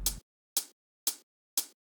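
A hi-hat layer in an electronic track plays four evenly spaced, bright, crisp hits about half a second apart, each decaying quickly into silence.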